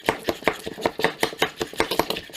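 Rapid, regular chopping clacks from a vintage hand nut chopper chopping nuts in a jar, about five strikes per second, close and crisp with a hollow knock.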